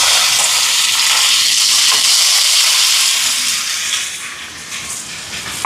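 Mustard seeds, dried chillies and curry leaves fry in hot sesame oil with a loud, close, continuous crackling hiss that eases slightly toward the end.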